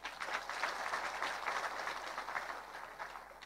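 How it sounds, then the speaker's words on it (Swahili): A church congregation applauds the Nyeri Deputy Governor with sustained, steady clapping from many hands across a large room, even in level throughout and without speech. "mpigieni makofi"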